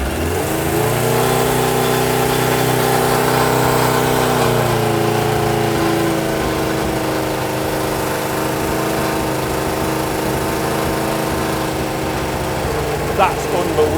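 A 31-year-old barn-find Suzuki Katana motorcycle engine runs loud and close, a steady idle whose pitch sags slightly partway through, with people talking over it.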